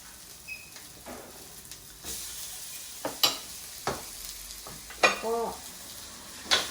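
Aromatic herbs dry-roasting and stir-fried in a pan, with soft background frying and intermittent spatula scrapes and clanks against the pan, fairly quiet and close.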